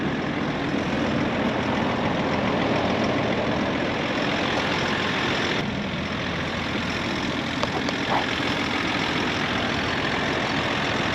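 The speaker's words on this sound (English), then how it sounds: "idling outside, it is much different sounding and much louder." A 2022 Chevrolet Silverado with the 3.0 Duramax diesel, running on B20 fuel, idles outdoors with a steady, loud, low rumbling drone that holds constant throughout.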